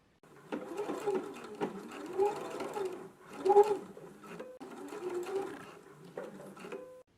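A home sewing machine runs in several short bursts to tack down a garment piece, its rapid mechanical stitching rhythm close and clear, separated by brief pauses.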